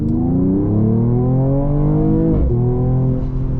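A 2022 Mercedes-AMG CLS 53 six-cylinder in a video game accelerates hard, its engine note climbing steadily in pitch, dipping briefly at a gear change, then rising again, loud and continuous with no voices.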